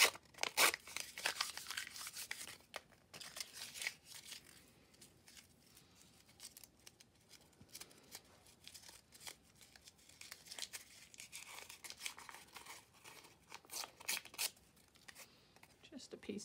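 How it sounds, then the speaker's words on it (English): A piece of brown paper bag being torn by hand for a collage, giving bursts of crinkly ripping and rustling that come and go across the stretch, loudest near the start, with no talk over them. "Let's use a piece of this brown paper bag as well."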